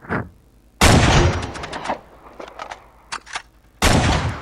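Loud gunfire in the video game Uncharted 3: three heavy bursts of shots near the start, middle and end, with scattered lighter shots and impacts in between, no talk.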